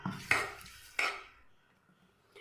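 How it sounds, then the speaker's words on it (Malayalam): A ladle knocks and scrapes twice against a pot while stirring rice-and-coconut batter for appam, two sharp metallic clinks followed by faint swishing, then a third knock at the end. "ഇനി നമുക്കിത് ജസ്റ്റ് ഒന്ന് തവി വെച്ച് മിക്സ് ചെയ്ത് എടുത്തിട്ട്"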